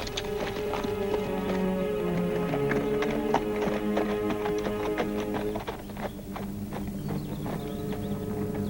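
Mare's hooves clip-clopping steadily at a walk, a regular patter of taps over a constant outdoor background hum.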